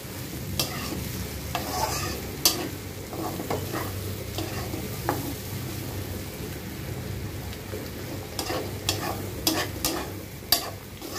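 Chickpeas cooked as boot bhuna in a pan while being stirred continuously, a steady sizzle broken by repeated scraping and clicking strokes of a spatula, close and fairly quiet, with no speech.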